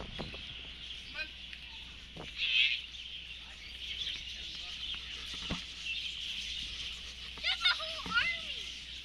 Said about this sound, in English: They have chickens too.